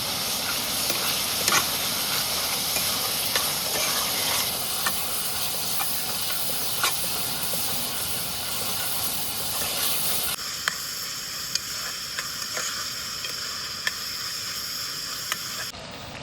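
Tomatoes and green chillies cook in a pan for prawn Chettinad, giving a constant loud hiss and steamy sizzle with faint clicks, the texture shifting and quieting partway through, with no talk.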